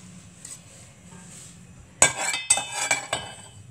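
Cloves stirred with a metal spoon in a pan while making gajar ka halwa give a burst of close, sharp clinks and scrapes in the second half, after a quiet start.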